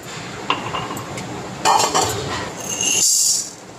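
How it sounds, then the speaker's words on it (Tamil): Roasted dried red chillies tip from a kadai onto a plate with a metallic scrape, light clinks and a brief rattling clatter near the end. "மிளகாய் வறுத்தாச்சு இப்போ இதை ஒரு தட்டில் கொட்டிக்கலாம்"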